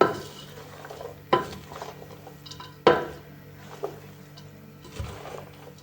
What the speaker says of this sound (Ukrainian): Всі овочі перемішуємо.